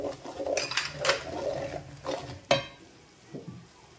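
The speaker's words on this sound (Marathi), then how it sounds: "जो वाटण आहे ना तो मस्त परतला गेला पाहिजे" Masala paste for Agri prawn curry is sautéed on low heat, with soft intermittent scraping and stirring scuffs and a faint sizzle, including a sharper knock near the middle.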